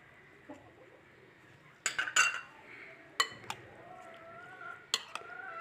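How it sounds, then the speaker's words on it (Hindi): Spices and meat for achar gosht are mixed in a bowl with a spoon, giving a few scattered clinks and scrapes against the dish, close but soft in a quiet room. "इन सब चीज़ों को हम मिक्स करेंगे"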